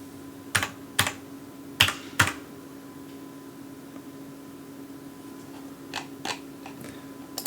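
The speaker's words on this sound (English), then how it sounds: "This keyboard kills me." Sharp, irregular keystroke clicks on a computer keyboard, with two clusters of loud taps followed by softer, sparser key presses against a steady electrical hum.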